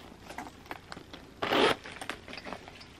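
A zipper on the back pocket of a Louis Vuitton bag is pulled open in one short, close rasping run, surrounded by light handling rustles.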